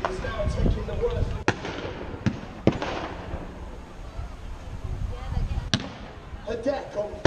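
Sharp pyrotechnic bangs from a naval battle reenactment show at Bridlington, several loud cracks spaced irregularly over a crowd murmur while a commentator narrates.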